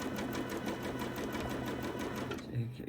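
A sewing machine stitches a quilt edge with Aurifil cotton thread, a rapid even chatter of needle strokes running close and steady before stopping near the end, with a voice talking over it.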